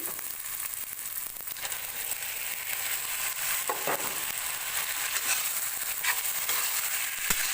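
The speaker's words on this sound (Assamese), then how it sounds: "আৰু এতিয়া এইখিনি কেঁচা গন্ধটো যোৱালৈ ভাজিব লাগিব এতিয়া মোৰ আদা নহৰুখিনি ভজা হৈ গৈছে আৰু ইয়াত মই মাংসখিনি দি দিম" Pigeon meat fries in a pan with ginger and garlic, producing a steady close sizzle with occasional stirring scrapes and no talk over it.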